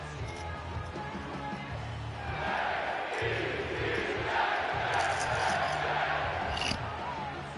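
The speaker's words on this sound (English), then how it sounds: "Crowd seems to be ready for this one." Stadium crowd noise at a football game in the video game Madden 25, a steady distant roar that swells louder midway and holds, fairly quiet overall.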